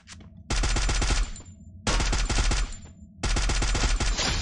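Three long bursts of automatic gunfire in the mobile shooter Free Fire, each a rapid string of loud, close shots lasting about a second, separated by short quieter gaps.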